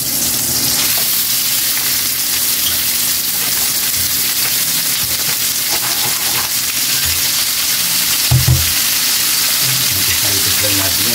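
Pork hitting a hot frying pan with onions for pork pakbet, a loud continuous sizzle and crackle with stirring scrapes throughout and a brief clatter near the end.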